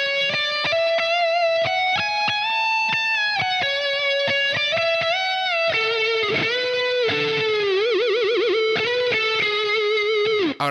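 Distorted, effects-laden electric guitar plays a solo at a quicker tempo: a run of picked notes and bends, then wide vibrato on held notes before a final dip, loud and close with no talking.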